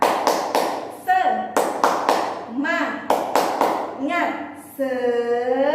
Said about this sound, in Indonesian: kita tepuk semangat sama-sama ya